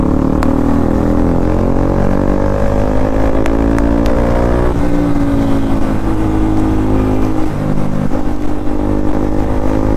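A Royal Enfield-style SD Scrambler motorcycle engine runs loud and close, its pitch rising and falling as the rider revs and moves, with a steady throbbing thump throughout and no voices.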